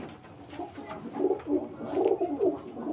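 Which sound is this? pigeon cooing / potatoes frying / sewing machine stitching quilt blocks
pigeon cooing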